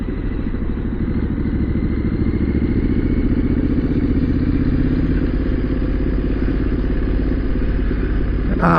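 A motorcycle ridden in second gear at just over 2000 RPM through a 20 mph town zone, its engine giving a loud, steady, close rumble with an even low throb and no change in pitch.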